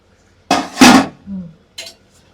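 A lid set onto a pot of pulao: two close, loud metallic clanks in quick succession, a brief rattle after, then a fainter clink.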